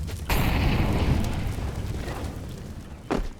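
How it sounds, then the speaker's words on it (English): A grenade bursts in the video game CS:GO on the Inferno map: one loud, close blast with a long rumbling decay, then a brief sharp crack near the end. "That'll be like a 50 damage nade."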